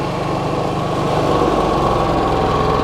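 A Westinghouse 4500 portable generator engine runs steadily about 10 inches away, a loud, even mechanical drone with a buzzing rattle and no pauses.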